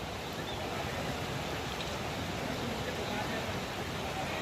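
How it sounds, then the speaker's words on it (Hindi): Birsi Falls waterfall beside the road to Munsiyari, a steady broadband rush of falling water that stays loud and unbroken throughout. "इस झरने का नाम बिरसी फॉल है"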